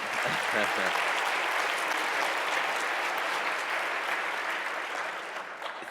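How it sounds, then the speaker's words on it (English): An audience applauds a speaker at a science lecture on sleep and dreams, a dense, even wash of clapping that holds steady and begins to taper off toward the end, with a brief voice near the start. "it's always dangerous to receive a round of applause before you've done anything"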